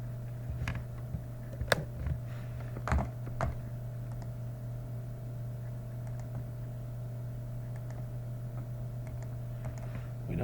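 Sparse keystrokes on a computer keyboard while code is written, a few scattered clicks over a quiet room with a constant low hum.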